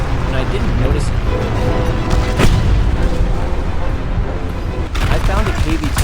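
Heavy cannon fire from a KV-2 tank in War Thunder Mobile, loud booming rounds over a constant rumble of battle, with sharp blasts standing out near the middle and toward the end, and a voice talking over it.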